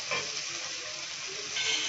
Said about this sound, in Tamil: அதை எடுத்து போட்டுட்டு கொஞ்சம் கல்லுப்பு போட்டு நல்லா வதக்குங்க